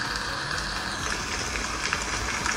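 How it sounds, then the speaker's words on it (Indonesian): Steady rain nature sound plays from a Redmi Note 5 phone running MIUI 10, a dense, even hiss of falling drops without pause and without speech. "Jadi mau dengerin suara hujan sampai 2 jam gitu"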